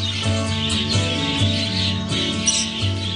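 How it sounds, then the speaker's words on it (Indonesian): A parrot calls with repeated chirping, squawking notes, fairly loud and close, over a steady low hum. "Jadi burung beo semacam ini asalnya dari alam, saudara-saudara."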